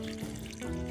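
Water pours steadily onto a freshly transplanted pineapple plant in a brief, continuous splash.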